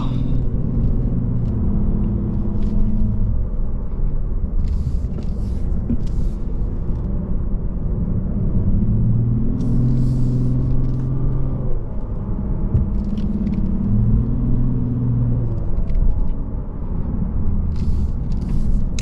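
A 2022 Lexus RC350 F Sport climbs a winding mountain road, its engine droning steadily close by, pitch rising and falling with gear changes and throttle, with faint tyre and wind hiss over the rumble.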